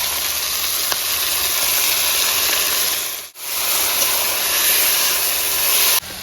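Ginger, garlic and green chilli paste hitting a hot pan for a home-style chicken curry, giving a steady, loud, even sizzle that runs throughout with one brief dip partway.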